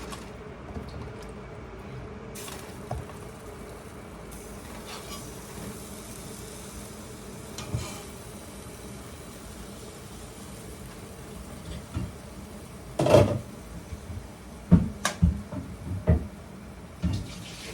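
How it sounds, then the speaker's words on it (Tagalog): Water runs from a tap into a cooking pot in a Filipino home kitchen, a steady low wash for most of the stretch with a few brief clatters and splashes near the end, and no talk over it. "Ikalalagyan ko muna ng tubig."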